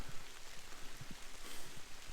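Rain falling steadily outdoors on a foggy hillside road, a dense patter with scattered heavier drops and a fluctuating, continuous hiss.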